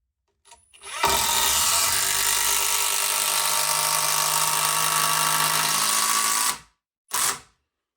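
A power driver sinks a timber screw into wooden framing in one loud, steady whine of about five seconds, then gives a short final burst after a brief pause.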